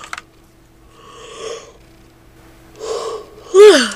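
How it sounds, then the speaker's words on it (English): A big yawn drawn out over a few seconds: soft breathy swells build, then a louder voiced tail closes it, close to the mic, with no other sound. "big yawn"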